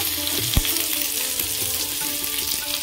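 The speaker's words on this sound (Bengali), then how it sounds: "তেল গরম হয়ে গেছে। রসুন কুচি দেব" Chopped garlic sizzling in hot oil in a pan that has just been used to fry eggs for street-style egg chowmein, a steady close crackling fry with a single sharp clink partway through.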